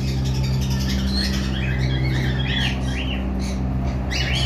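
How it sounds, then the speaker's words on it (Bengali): Yellow lovebirds in a bird farm give repeated sharp squawks and chirps over a constant low mechanical hum, the calls overlapping irregularly at a moderate distance. "এখানে যেই একটা পেয়ার লাভবার্ড ছিল, সম্ভবত ইয়েলো কালার"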